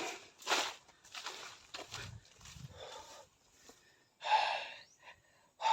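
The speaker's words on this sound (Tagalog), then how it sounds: "Hinihingal na ako." Heavy, ragged panting from someone winded after walking around an outdoor area, several loud gasping breaths in uneven bursts with quieter pauses between, close to the microphone.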